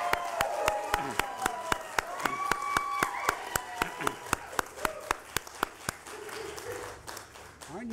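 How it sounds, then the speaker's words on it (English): At a Nasdaq opening-bell celebration for TowneBank, a small crowd claps and cheers while sharp, rhythmic, evenly spaced hand claps ring out near and loud, tapering off as the applause dies down. "So now let's give a round of applause."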